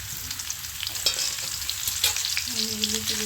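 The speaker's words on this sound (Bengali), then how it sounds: "দেখুন কড়াইয়ে ঘি আর তেজপাতা, শুকনো লঙ্কা, 5 ফোড়ন দেওয়া হয়েছে।" Ghee sizzles steadily in a wok with bay leaf, dried chilli and five-spice seeds, a close, continuous crackling fry with a few sharper pops and a faint hum running beneath.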